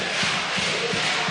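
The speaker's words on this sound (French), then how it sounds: "Et une foule en délire pour ces derniers instants en Money Time" A frenzied handball arena crowd roars continuously during the tense final minutes of a Nîmes versus Cesson Rennes match, with rhythmic thumping beats under the dense cheering.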